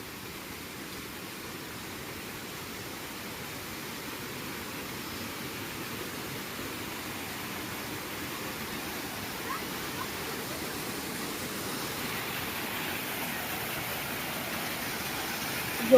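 Broad, steady rushing of a very large waterfall in the hills during the monsoon, a constant mid-level roar heard from some distance for the whole stretch, with no talk over it.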